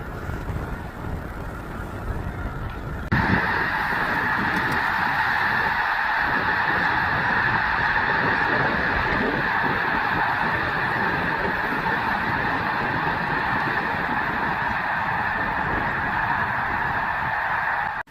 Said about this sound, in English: thousands of geese took off at the same time in the middle of the lake